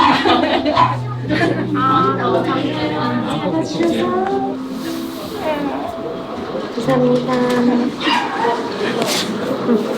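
A dog whimpers and lets out high yips and short barks amid people talking nearby, the whining rising and falling in several bursts.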